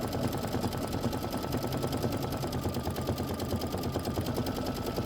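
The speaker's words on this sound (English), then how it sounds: "And this is 7 minutes of stitching." A sewing machine stitches continuously at a fast, even rattle, loud and close with a constant mechanical hum and no voices.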